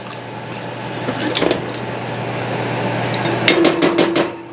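Canned cranberry sauce slides into a pan with soft wet plops and gloopy squelches, a few knocks of the can against the rim, close and moderately loud, with a low steady hum underneath.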